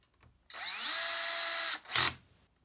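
A power drill drives screws into a salvaged 65-inch Panasonic TC-65S1 TV: one sustained whirring run of about a second and a half, then a short second burst, close and loud with no talking.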